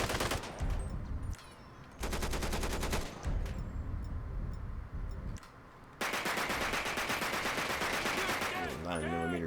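Modded automatic fire from a Tec-9 9mm in GTA V crackles and echoes between buildings, rattling in loud sustained bursts separated by brief pauses, with the longest burst near the end.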